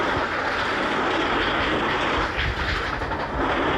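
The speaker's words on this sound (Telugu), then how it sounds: "అదైతే ఇంకా స్లోగా వస్తుంది బ్యాక్ సైడ్ ట్రైన్" A continuous rumbling roar of a train locomotive engine in the video game Railway Simulator India, steady and fairly loud throughout, with no voices.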